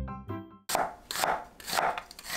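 Knife slicing an onion into thick pieces on a cutting board, three or four crisp cuts with firm board knocks, close and clear after a brief musical tail.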